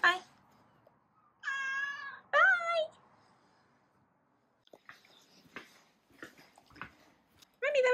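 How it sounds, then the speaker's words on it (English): A cat meows outside a house: a few short, clear meows near the start, then quieter rustling, with a person speaking briefly and another meow at the end. "There's a cat."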